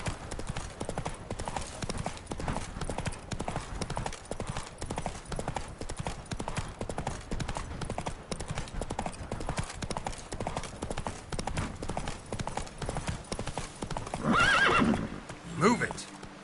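A horse in the Witcher 3 game trots with rapid, steady clip-clop hoofbeats on hard ground, then lets out a loud, close neigh near the end, with a voice speaking over it.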